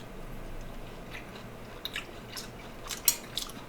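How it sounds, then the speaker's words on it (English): Canned black beans and corn are chewed close to the microphone in soft, wet, irregular bites and squishes, with a few sharper crunchy clicks near the end over quiet background hiss. "the beans require me to chew, so that's definitely a plus"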